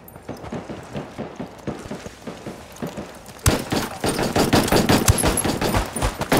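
Rapid gunfire in the Ghost Recon Wildlands Ghost War video game, dense repeated shots that grow louder and more intense midway, forming a continuous crackling barrage.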